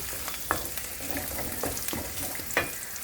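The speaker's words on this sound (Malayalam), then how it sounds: "കറിവേപ്പിലയിട്ട് നന്നായിട്ട് ഇളക്കുക" Curry leaves frying in oil in a pan for homestyle Kerala mango pickle, a continuous crackling sizzle punctuated by several sharp scrapes and knocks of a spoon stirring against the pan.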